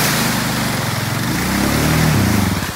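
Honda Rancher 420 ATV engine revving hard at full throttle while churning through a swamp, a loud continuous rough drone that climbs in pitch toward the end.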